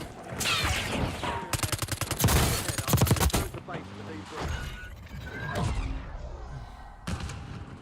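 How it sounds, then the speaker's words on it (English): Rapid gunfire bursts from Call of Duty Warzone, loud and close, with a heavy automatic stretch in the middle and scattered shots and thuds around it, under a voice. "They stopped shooting each other. Just shooting me now."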